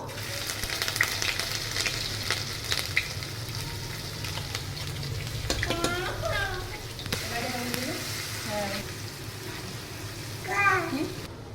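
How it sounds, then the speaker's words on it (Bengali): Chopped ginger and garlic frying in a pan for restaurant-style chili paneer, a steady close sizzle with scraping stirs and clinks throughout. "এইবারে আমি আদা কুচি আর রসুন কুচি দিয়ে ভাজবো।"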